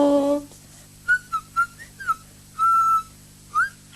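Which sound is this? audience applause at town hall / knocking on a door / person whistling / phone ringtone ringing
person whistling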